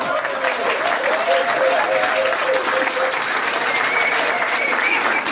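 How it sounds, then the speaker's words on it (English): An audience at a trivia quiz night at the Granta pub claps steadily, a dense, sustained round of applause with a faint murmur of voices underneath, holding at an even level throughout. "Give them a round of applause for trying"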